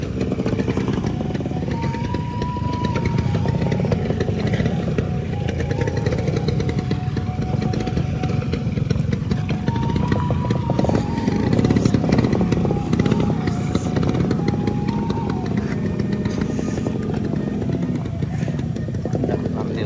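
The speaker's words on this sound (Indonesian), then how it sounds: "Vespa lagi uji nyali sekarang." Vespa scooter engine running along a mountain road between Muaro Aie and Alahan Panjang, a steady droning motor sound that holds loud and close throughout, with faint voices mixed in under it.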